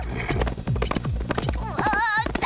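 Hooves of a magical horse clip-clop in a steady rhythm in a French children's animated film, joined by a short whinny, with music and other sounds underneath.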